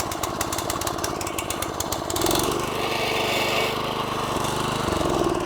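A Toro reel mower engine turns over on a pull cord and catches, then runs at a steady, loud idle with a rough mechanical chatter close by.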